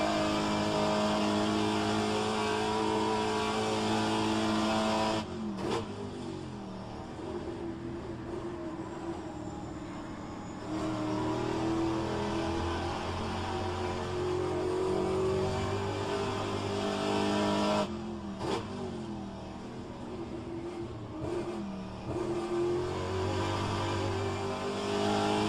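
A race car engine in a racing video game drones steadily at high revs, with abrupt dips at upshifts before climbing again, loud and continuous throughout.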